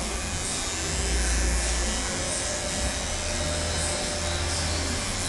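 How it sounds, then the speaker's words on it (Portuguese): A Chinese-made electric hair clipper buzzes steadily as it shaves hair from an arm, with a loud, continuous close-up motor drone and no pauses. "Vamos ligar, gente, e vamos fazer a depilação do braço"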